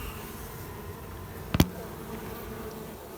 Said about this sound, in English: And a whole big pile of bees hiding up in the back there.